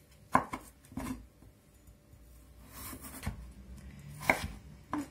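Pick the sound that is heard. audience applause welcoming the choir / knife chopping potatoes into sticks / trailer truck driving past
knife chopping potatoes into sticks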